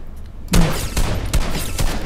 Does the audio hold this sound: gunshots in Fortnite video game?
yes